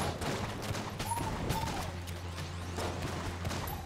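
The mermaid gun in the video game Enter the Gungeon, firing as a rapid string of close, punchy shots with bubbly, warbling tones among them, continuous across the clip without talk.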